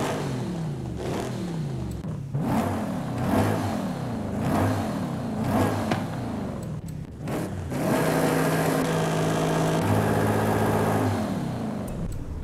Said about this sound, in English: you can finally compare different sounds for different upgrades, whether it's your exhaust notes or your engine notes with the air filter.